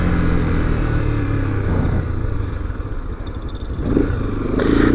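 Steady roar of a Honda XRE 300 motorcycle engine on the move, with continuous wind and road rumble filling the whole stretch.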